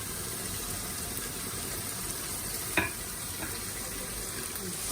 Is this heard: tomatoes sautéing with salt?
yes